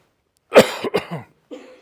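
A short burst of two or three harsh coughs close by from someone with an allergic reaction, followed after a pause by a softer throaty sound.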